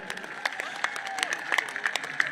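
A crowd at a political rally in Anta, Rajasthan claps in scattered bursts, somewhat distant, with crowd noise and a sustained tone beneath the uneven patter of applause.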